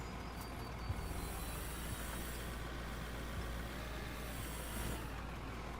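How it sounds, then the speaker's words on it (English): A truck's air brakes hiss and release in the Out Of Ore mining game, set against a steady, low engine rumble with no talking. "Brakes."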